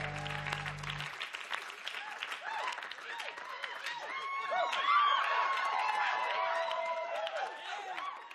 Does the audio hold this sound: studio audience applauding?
yes